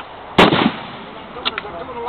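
A single sharp, loud rifle shot from an M1917 Enfield fired at 50 yards cracks out near the start, followed by a brief echo and a couple of faint metallic clicks.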